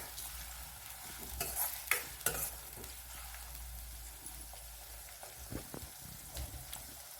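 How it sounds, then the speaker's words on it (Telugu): Onions frying in a pan on medium heat, a soft continuous sizzle broken by scraping stirs and a few utensil clinks, close and fairly quiet with no talking. "ఉల్లిపాయలు వేగనిద్దాం"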